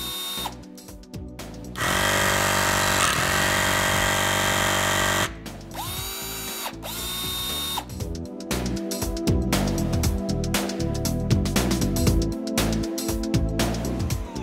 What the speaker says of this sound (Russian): Звук работы значительно приятнее, чем в гидравлических системах